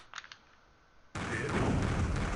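Explosions in the Mega Man Zero video game burst in as a loud, sustained roar of blasts after a quiet stretch with a few faint clicks, filling the rest of the moment with dense, rumbling noise.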